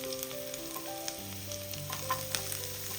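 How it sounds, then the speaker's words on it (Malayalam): Chopped small shallots fry in hot oil in a pan, giving a steady close sizzle with light stirring throughout and no talking. "ഇനി ഇതിലേക്ക് നമ്മൾ കട്ട് ചെയ്ത് വെച്ചിരിക്കുന്ന ചെറിയ ഉള്ളിയും കൂടി ഇട്ട് കൊടുക്കാം"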